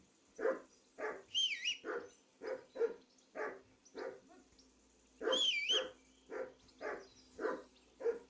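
Repeated barking from a dog in the medieval video game Kingdom Come: Deliverance II, a steady series of sharp barks at a regular pace, interrupted twice by a brief rising-and-falling whistle.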